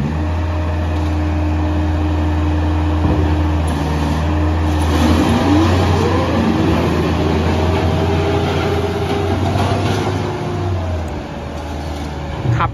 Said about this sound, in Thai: วันนี้ MPV ก็จะมาทดสอบนะครับรถตักล้อยาง TCM นะครับรุ่น808นะครับ